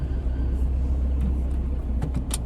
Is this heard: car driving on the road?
yes